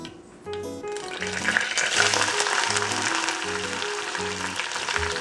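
Hot oil sizzles and crackles steadily once small shallots hit the pan with curry leaves, a bright frying hiss over soft background music, close and fairly loud.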